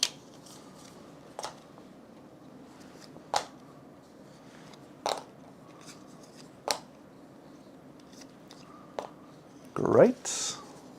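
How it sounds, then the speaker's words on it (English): Cards being dealt out one at a time, a series of brief crisp slaps and swipes spaced about every second and a half, close and fairly quiet over a low room hum, with a louder rustle of cards near the end. "So we're going to shuffle these and randomly deal out 5 of these."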